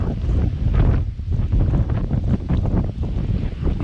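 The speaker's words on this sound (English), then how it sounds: "It's a bit windy, sorry about that." Strong gusting wind buffets the microphone at a hilltop lookout above a remote northern Australian port town, a continuous roaring rush with uneven surges and no voices.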